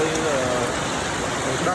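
Rain falls over Kandal province, Cambodia, in early March, a steady, dense hiss of drops that holds evenly for the whole short stretch without a break.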